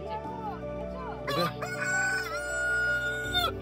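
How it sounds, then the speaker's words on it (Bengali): A desi rooster crows loudly and close by, a long rising-and-falling call, with a few clucks from other chickens beforehand at a home in Sittong. "দেশি মুরগি"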